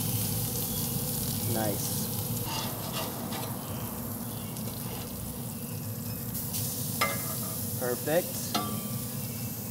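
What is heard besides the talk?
salmon burger sizzling on the grill after being flipped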